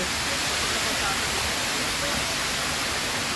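A waterfall at Villa Escudero rushes as a dense, steady roar of white water, loud and close, filling the whole stretch without a break.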